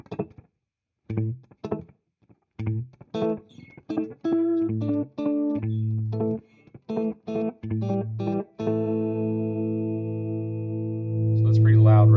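An electric guitar played through a Morley pedal set to a short slapback echo, with repeated picked notes and chords each trailed by a quick doubled repeat, ending in a sustained ringing note.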